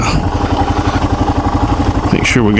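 Kawasaki KLR 650 motorcycle engine idling close by after warming up, a rhythmic thumping pulse that stays steady, with a voice speaking briefly near the end.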